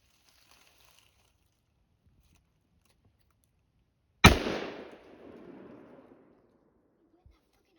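A single loud, sharp gunshot cracks out during a woodland squirrel hunt, its report decaying over about a second amid otherwise quiet surroundings.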